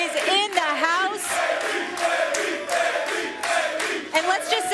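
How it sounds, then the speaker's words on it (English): Crowd cheering and whooping in a sports TV studio, loud excited yells and shouts rising in bursts with voices overlapping throughout. "the crowd is so hyped right now"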